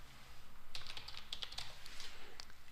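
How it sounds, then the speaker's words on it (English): Rapid keystrokes on a computer keyboard patter in an uneven run of crisp clicks, close and fairly quiet, with no voices. "and then just start typing away"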